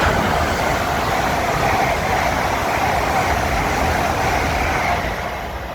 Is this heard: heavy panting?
no